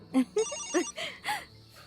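A phone ringtone plays a short melodic tune of bright tones, fairly close and clear, with no talking over it.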